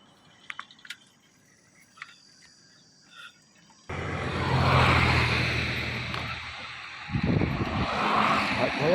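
A vehicle driven up nearby: after a few seconds of quiet with faint taps and drips, a loud engine and road rush starts abruptly and continues, with people talking over it near the end.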